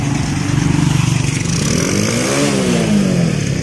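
A motorcycle engine catches on the first kick and revs, its steady mid-pitched drone rising and falling in pitch at close range, loud and continuous throughout.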